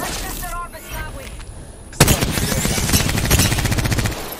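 Rapid gunfire in the Apex Legends battle royale video game, dense repeated shots starting abruptly partway through and continuing loud and close, with a quieter stretch of game sounds before it.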